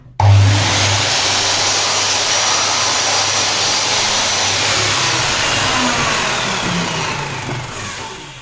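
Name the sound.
power saw cutting the rough end off a stick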